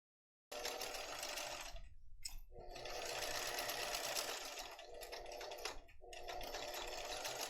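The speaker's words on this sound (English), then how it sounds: "You can see I'm sewing right over 2 layers of leather straps" Bernina domestic sewing machine driving through two layers of leather straps on a purse-size tote, running loud and steady after a silent start, with two brief pauses in the stitching.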